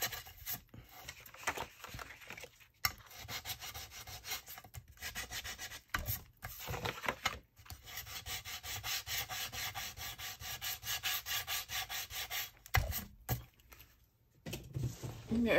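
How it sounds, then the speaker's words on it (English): A small gator sander rubs and scuffs paper for a junk journal in close, raspy strokes, a steady scratchy texture broken by brief pauses. "My little gator sander, and I'm gonna rough this up a little bit"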